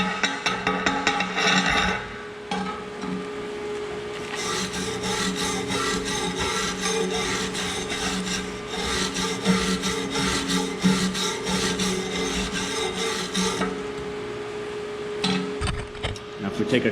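Slag being chipped off a flat padding weld bead made with 6013 electrodes: close, dense scraping and rapid metallic tapping that runs almost continuously, with brief pauses near the start and end.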